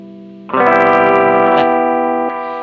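An electric guitar chord is struck once and left to ring, sustained and bright with a chorus-like shimmer and a slight edge of grit.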